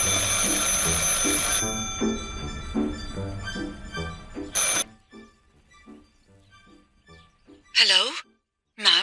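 A phone rings in the game Martha is Dead, as a loud repeating ring over game music, followed by a few faint rings and then a short electronic trill after a near-silent stretch.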